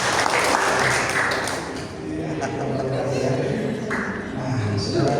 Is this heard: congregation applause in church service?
yes